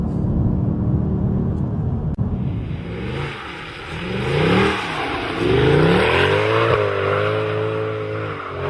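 A Mercedes 6.2-litre V8 engine revs and accelerates hard, pitch rising and falling through gear changes, loud and close with a deep rumbling tone.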